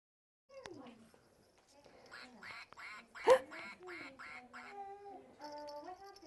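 A run of nasal quacks in a quick rhythmic series, likely from a toy or imitation duck in an infant classroom, with a sharp knock and soft adult talk nearby.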